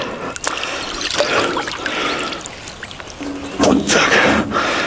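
Water trickles and splashes continuously nearby with a bright, bubbling hiss, with brief louder gushes and some faint background movement.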